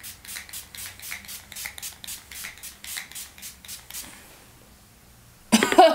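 A quick series of even, soft spray pumps from a make-up setting spray is followed by a short pause and then an abrupt, loud cough close to the microphone.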